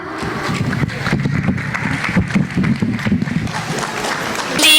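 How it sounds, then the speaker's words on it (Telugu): Audience clapping to welcome children performers onto the stage at a Telugu school cultural event, a steady dense patter of many hands mixed with crowd murmur, fairly close and continuous. "మరి మీ ఘనమైన చప్పట్లతో ఆహ్వానిద్దామా"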